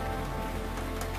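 Steady rain falls at Lake Pátzcuaro in a short, even wash of pattering drops, with a low hum running underneath.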